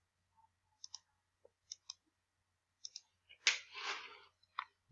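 Dice rattle and tumble for a lottery draw: a run of short, sharp clicks rings out in a quiet room, then a louder burst of rolling clatter, and a few last clicks follow.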